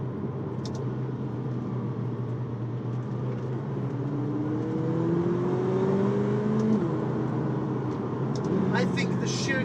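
A McLaren 720S sports car accelerates, a sustained engine drone that rises steadily in pitch inside the cabin, loud and continuous throughout.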